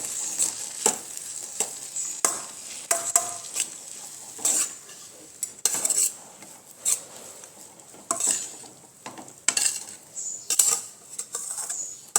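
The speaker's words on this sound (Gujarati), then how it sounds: "પૌવાને આપણે સરસ રીતે મિક્સ કરી લઈશું" Poha (flattened rice) is stirred in a pan, with a spoon scraping and clinking against the metal in irregular bursts over a faint sizzle, close to the microphone and without speech.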